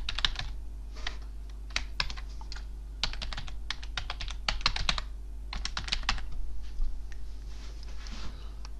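Close, crisp clatter of someone typing an email address on a computer keyboard, keystrokes coming in quick bursts with short pauses between, with no voices over it.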